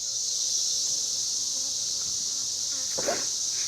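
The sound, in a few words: honey bees buzzing in an open hive during inspection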